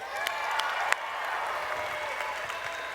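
A convention audience applauds runners and walkers of a 5K event, a faint, distant patter of many hands clapping steadily with a few sharper individual claps standing out.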